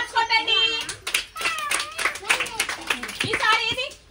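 Young children at an anganwadi school clap their hands in scattered bursts, the claps mixed with loud, close children's voices talking and calling out throughout.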